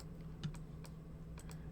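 Computer mouse clicks at a desk while selecting lines in animation software, a handful of sharp, close clicks spaced irregularly over a faint steady hum.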